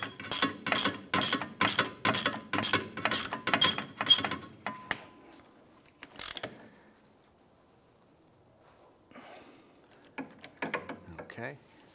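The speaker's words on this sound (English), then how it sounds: "Now I'm just going to use my ratchet to tighten these down" A hand ratchet tightens the hub bolts on a 2005-2007 Ford Five Hundred rear wheel hub assembly, about a dozen quick rhythmic clicking strokes up close, then a pause, one more burst and a few faint handling clacks.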